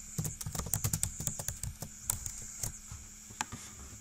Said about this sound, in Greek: να γράψουμε κείμενο από το πληκτρολόγιό μας.